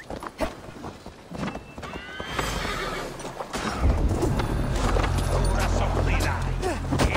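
Horses in Assassin's Creed Valhalla, a siege of Paris: a neigh, then galloping hoofbeats that build into a loud, continuous rumble of many horses, with voices speaking over it.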